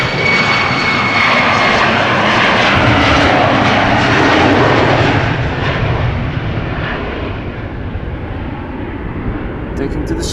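A KLM Embraer jet airliner takes off at Amsterdam Schiphol Airport, its engines a loud, broad roar that holds steady, then slowly fades as the plane climbs away.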